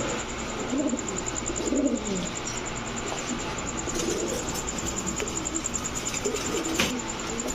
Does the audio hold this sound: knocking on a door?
no